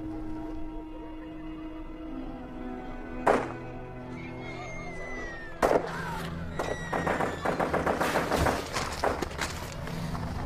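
Sharp gunshots crack out in Afghanistan, two isolated ones and then a rapid burst of many shots, 30 to 50 in total, with echoing tails and a low background hum.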